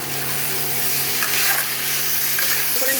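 Fried gobindobhog rice and potatoes being stirred together in a pan: a dense, steady close sizzle with soft scraping and a low background hum, no voices.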